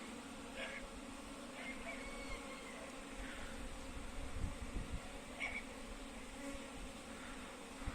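Constant honeybee buzzing around a hive in early spring, a busy layered hum with a few brief louder passes close by; no talking.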